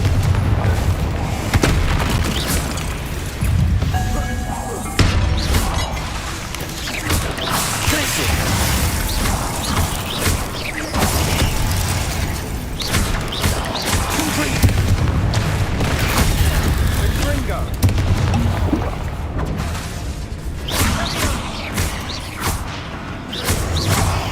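Repeated Confringo blasting-spell explosions and heavy booms from the video game Hogwarts Legacy keep up a loud, continuous, crashing barrage, with no clear gaps between bursts.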